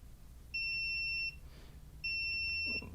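A continuity beeper in use during repair of a MacBook Retina A1502 gives two steady high-pitched tones, each lasting under a second, separated by a brief pause in a quiet workshop.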